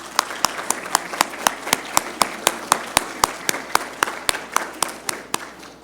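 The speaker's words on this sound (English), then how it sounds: "Just a round of applause." Sparse, distinct claps ring out one after another at a steady pace from an audience gathered at a family conference welcome session, a thin round of applause with no voices over it.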